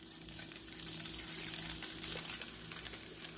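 Leftover kimbap ingredients fry in a pan over medium-high heat, giving a continuous, fairly quiet sizzle with a soft crackling hiss throughout.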